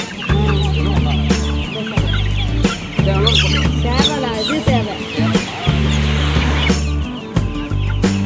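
Chickens clucking close by in a farm setting where birds are being bought, with loud repeated clucks and squawks over a steady low hum, and people talking in between.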